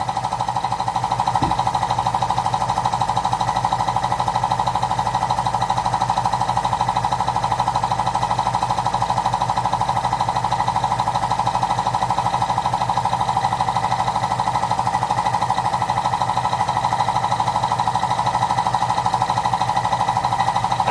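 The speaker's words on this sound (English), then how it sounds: "I'm going to let this compressor fill up a few more minutes and I'm going to shut it off" An air compressor runs steadily as it fills, a continuous droning hum with a rapid mechanical chatter, holding an even level throughout with no talking, in a garage during a rear rotor job on a 2018 EcoSport.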